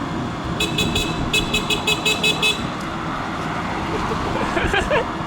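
A car horn honks in a rapid run of short toots, pauses briefly, then honks again in a longer burst over steady street traffic noise.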